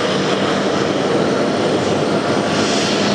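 A jet airliner touches down on runway 22 left at JFK, its engines a loud, steady broadband roar that holds unbroken throughout with no voices over it.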